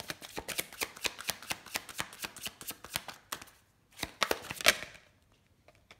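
Tarot cards being shuffled and laid down on a table, a steady run of quick crisp flicks and slaps close by, then a short pause and a few louder snaps before quiet.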